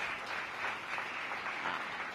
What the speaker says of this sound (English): So give Andy Shalal a big round of applause.